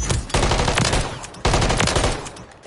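Gunfire in Call of Duty multiplayer, two loud close rapid automatic bursts, each cutting in sharply and trailing off.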